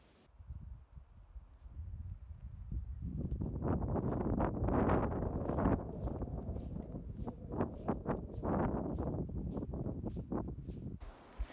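Gusty wind buffets the microphone outdoors beside Nävsjön, a lake in Sörmland, in March, a broad rushing roar that swells and surges in waves and then drops away abruptly at the end.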